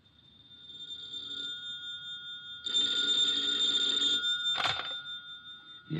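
Telephone bell rings from a radio drama sound effect, a steady electric ring that swells louder in bursts and ends with a sharp clatter as the receiver is picked up; no talk over it.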